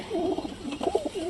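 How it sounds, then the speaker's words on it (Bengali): Pigeons coo softly in a loft, a few low rolling calls repeating close by with no talk over them. "এটা সব কবুতরগুলো কীভাবে এখানে আছে দেখো"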